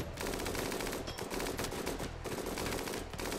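Turret gunfire in the video game RimWorld: rapid, continuous machine-gun bursts rattle close and loud with brief gaps, and no speech.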